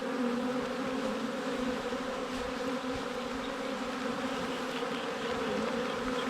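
Honey bees buzz at a hive during a harvest, a dense, continuous droning hum that holds steady and loud throughout with no voices.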